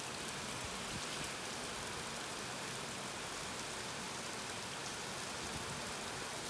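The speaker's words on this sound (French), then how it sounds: "Et voilà, forte pluie." Heavy rain pours steadily in Lille, a dense, unbroken hiss of drops drumming on surfaces with no gaps or voices, loud and close throughout.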